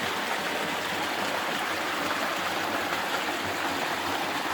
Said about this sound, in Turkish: yani orijinal bir çeşme gerçekten.